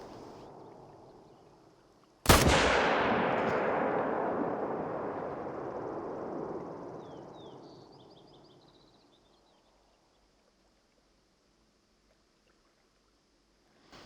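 A single loud rifle shot at a deer in theHunter: Call of the Wild, a sharp crack followed by a long rolling echo that fades over several seconds into silence.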